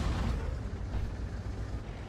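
A tank shell from World of Tanks slams into the ground, a loud, rumbling low boom that rolls on and fades for about two seconds, with no voices.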